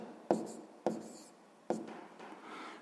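A pen writes an answer to a sixth-grade math exercise, three sharp taps on paper followed by soft scratching strokes, close and quiet with no talking.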